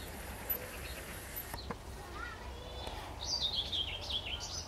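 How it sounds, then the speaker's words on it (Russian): Birds sing outdoors at sunset near a vegetable garden, a faint chirp early on and then a clearer, wavering high-pitched song in the last seconds, over quiet ambient background noise. "И птички еще поют."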